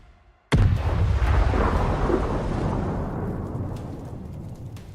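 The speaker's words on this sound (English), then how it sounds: "A precise hit and the target is destroyed." A HIMARS rocket strike hits a Russian convoy target, one sudden loud explosion bursting in and then rolling into a long, heavy rumble that fades slowly over several seconds.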